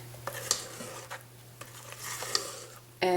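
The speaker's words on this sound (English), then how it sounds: "I'm blending that, or folding it rather, into my egg yolk" A spatula folds melted chocolate, unsalted butter and bourbon into an egg yolk and sugar mixture in a big bowl: soft, scattered scrapes and light taps, fairly quiet, with a sharper clink of utensil on bowl at the end.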